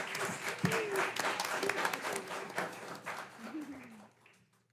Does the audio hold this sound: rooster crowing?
no